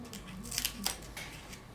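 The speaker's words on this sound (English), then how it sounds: "Trim off the excess straps so they won't bother Cleo" Scissors trim excess straps from a dog's carpal brace, giving a few quick close snips in a short burst against a quiet room.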